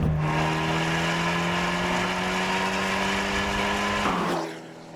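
An Abarth 124 engine breathing through its Record Monza exhaust holds a loud, steady drone with a low engine note, then lifts off near the end as the revs drop away and the sound quickly fades.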